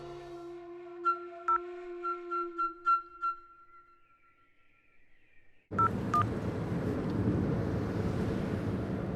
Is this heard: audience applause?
no